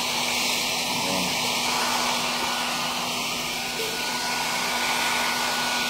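A handheld blower roars steadily at close range, drying out water inside an Astron automatic washing machine that is being repaired for an E8 error. The broadband whoosh runs continuously with no talk over it.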